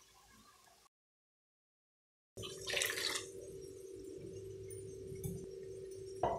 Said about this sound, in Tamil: குருமாவுக்கு வேணுங்கிற அளவு தண்ணியை ஊற்றியாச்சு.